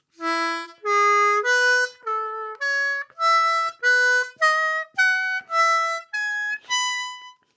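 Diatonic harmonica plays a sequence of about a dozen separate sustained tones and chords, each breathy note clearly articulated and close, with no talking.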